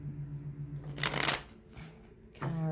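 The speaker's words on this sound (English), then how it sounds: "I did a little bit of shuffling" Tarot cards being shuffled by hand in a short riffling burst, close and crisp, with a humming tone and faint background before and after.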